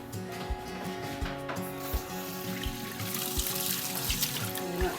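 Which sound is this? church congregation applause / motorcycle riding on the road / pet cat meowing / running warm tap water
running warm tap water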